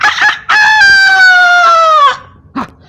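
A rooster crows loudly and close by, a long drawn-out call preceded by short clucks and followed by a brief squawk.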